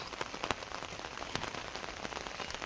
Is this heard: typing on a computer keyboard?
no